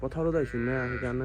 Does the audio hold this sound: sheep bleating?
yes